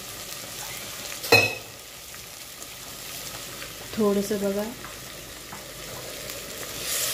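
Vegetables with cabbage frying in a pan for veg biryani, with a sharp hiss as water hits the hot oil around 1.3 s and a scraping stir near 4 s, over a low steady sizzle; someone speaks briefly.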